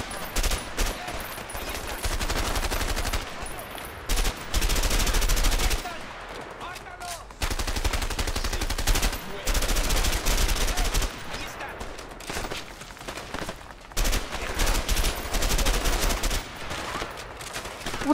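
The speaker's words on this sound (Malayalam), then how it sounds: "ഇത്ര വെടി അവിടെ വായിലോട്ട് കയറി വെടി വെച്ചിട്ട് അവൻ ചത്തില്ല." Rapid bursts of automatic gunfire and single shots in the video game A Way Out, loud and dense, with short pauses between volleys.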